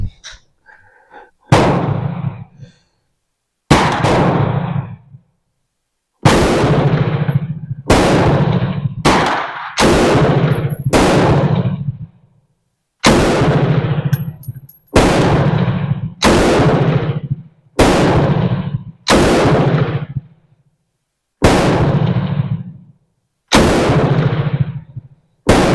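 A Bren MK2/MK3 light machine gun fires .303 rounds in a run of about a dozen loud, sharp bursts, each a few shots long and spaced by short gaps, with long ringing tails and no talking between them.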